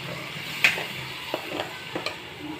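Masala frying in a pan for fish curry, a soft steady sizzle broken by several sharp scrapes and taps of a spoon stirring, close and alone without voices.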